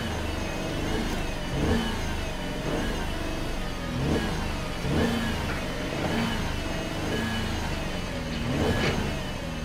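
A 2011 Chevy Equinox engine running close by, rising in a series of repeated revs roughly every second or so over a steady idle, loud and alone with no talking.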